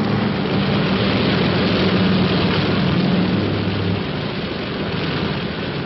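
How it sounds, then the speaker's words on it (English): A helicopter on patrol over water flies steadily, a dense roar of rotor and engine noise filling the whole stretch, a low continuous drone with a rumbling hum that never lets up. "Helicopter in the background is ditch patrol."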